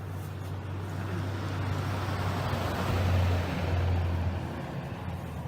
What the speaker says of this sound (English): another vehicle.